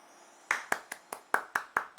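Hand claps in a Football Manager 2022 session, eight sharp separate claps at a steady, slightly uneven rhythm, close and fairly loud with no talk over them.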